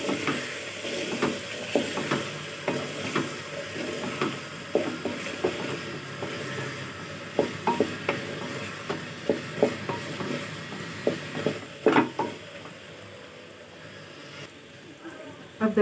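Mutton for aloo gosht sautéing in a pot, with soft sizzling under frequent scraping strokes of a spoon, fairly close and uneven in rhythm.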